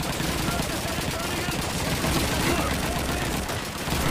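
Rapid gunfire from a gun in the Call of Duty 2 video game, a dense, continuous burst of shots that stays loud and steady throughout.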